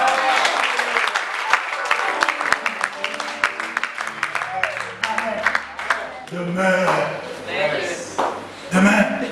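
A church congregation claps and cheers in acclamation, loud rapid clapping at first that gives way to raised voices and calls, with talk mixed in toward the end.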